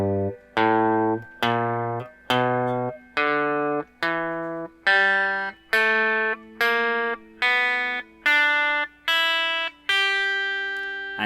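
An E blues scale ascends on guitar, about a dozen separately plucked notes climbing in pitch at a steady pace, each struck clearly and ringing briefly under a bright, slightly effected tone with open strings sustaining underneath.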